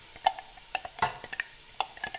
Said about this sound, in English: We're going to add our tomato and spice mixture. Going to get that into the pan and mix it up.